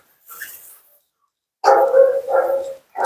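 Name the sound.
Siberian husky barking and vocalizing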